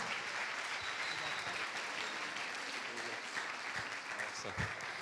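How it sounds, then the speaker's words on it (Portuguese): A church congregation applauds steadily throughout a late-night service, a dense continuous patter of clapping filling the room with no pauses. "Vamos aplaudir ao Senhor mais uma vez pela vida do pastor?"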